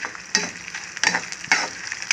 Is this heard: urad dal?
yes